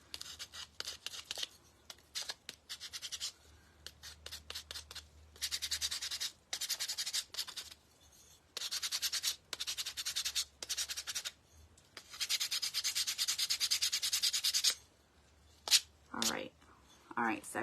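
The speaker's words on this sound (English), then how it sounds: "Okay, so I'm going to go ahead and sand this a little bit." Scrap wood sanded by hand in bursts of rough rasping strokes, close and fairly loud, separated by short pauses, with a longer continuous run of sanding near the end.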